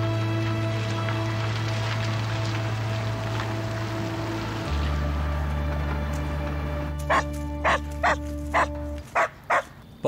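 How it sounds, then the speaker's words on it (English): A run of short dog barks arrives late, about six evenly spaced yelps over a steady low hum and music-like drone. "what are you barking about like an old lady at the market?"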